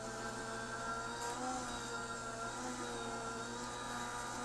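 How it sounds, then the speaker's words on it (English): An Anna Griffin Mini die cutting machine running a die through, a steady continuous motor drone with a constant hum, close and even, with no talking. "So I'm going to run this through the die cutting machine."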